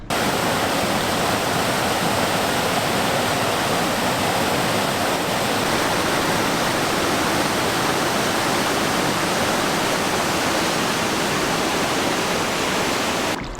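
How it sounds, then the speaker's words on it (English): A sizeable drop on a river roars like a waterfall during a solo canoe trip, a steady, loud, unbroken rush of white water filling the whole stretch with no voices. "As soon as I rounded this bend, I can hear this thing rushing. It's a pretty good sized drop, I think, as I recall. Sort of like a waterfall of sorts"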